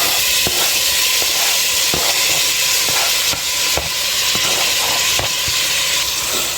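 Onions and tomatoes sizzle loudly and steadily in melted butter for a chicken masala, a dense hiss with regular clicks and taps running through it.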